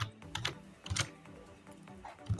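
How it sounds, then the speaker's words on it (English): Keys clatter on a computer keyboard in irregular bursts of clicks and taps, close and fairly quiet, with no voices. "let me type the venue."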